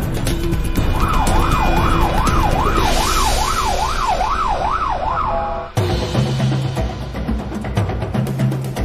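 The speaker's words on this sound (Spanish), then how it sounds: "ya se está acercando la ambulancia" An ambulance siren wails in a fast rising and falling pattern, loud and close over traffic noise, then cuts off abruptly.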